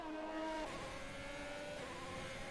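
Race car in an F1 video game at Singapore twitching and losing grip, engine note wavering and dropping with faint tire noise, moderately quiet and without speech.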